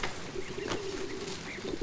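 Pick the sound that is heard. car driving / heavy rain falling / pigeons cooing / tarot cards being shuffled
pigeons cooing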